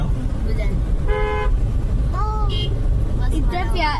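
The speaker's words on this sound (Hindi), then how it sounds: "ये हॉर्न बजाओ।" A car horn toots in short, bright blasts, a couple of separate honks over rumbling road noise, with people speaking nearby.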